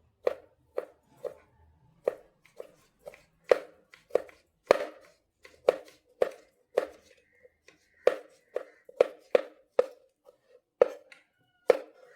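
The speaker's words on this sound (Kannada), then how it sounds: "ಟೊಮೆಟೊವನ್ನು ಕೂಡ ಉದ್ದ ಕಟ್ ಮಾಡ್ತಾ ಇದ್ದೇವೆ" A knife chops tomatoes lengthwise on a board in a kitchen making egg masala, sharp close cuts coming one after another in an uneven rhythm, about twenty strokes with short gaps between them.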